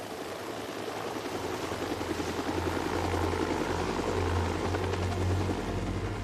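A medical helicopter taking off, its rotor thumps and engine whine building to a loud, steady roar, nearby and continuous, with no talking.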